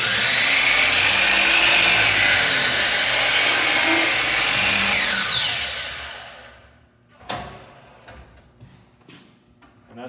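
A crosscut saw cutting through a wooden board roars loudly and steadily for about six seconds, then winds down into quiet, scattered clatter near the end.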